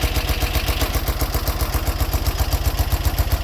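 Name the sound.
1980 BMW R100RT motorcycle engine idling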